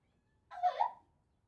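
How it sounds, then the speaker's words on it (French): A cat yowls once behind a closed door, a short wavering cry of about half a second, moderately loud against a quiet room. "j'ai mon chat qui hurle à la mort derrière la porte"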